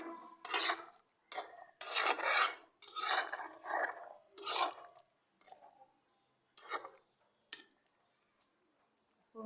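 A spoon scrapes and clatters against a cooking pot in short, irregular bursts while food is stirred on a gas stove, close and fairly loud, with brief pauses between strokes.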